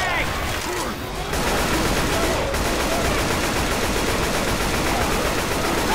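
Dense, rapid gunfire pours into the Tank in Left 4 Dead 2, with several weapons blasting at once in a loud, continuous fusillade for the whole stretch and hardly any break.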